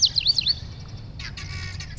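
Birds at Lake Chivero, a wetland near Harare, Zimbabwe, give a few thin high chirps followed by a faint trill over low background rumble.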